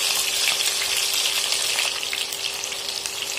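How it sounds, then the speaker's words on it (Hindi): Stuffed spiny gourds fry in a covered pan, giving a dense, even sizzle that stays loud and close without pause, with no voices. "हमें इसी तरह से उलट पलट कर फ्राई कर लेना है।"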